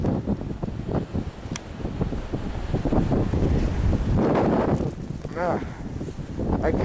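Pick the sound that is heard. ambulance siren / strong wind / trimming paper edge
strong wind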